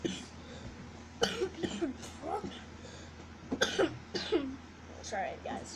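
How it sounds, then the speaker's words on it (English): Indoors by a fireside, someone coughs in a few separate bursts, close and fairly quiet, with voices talking around the coughs. "Sorry about that coughing."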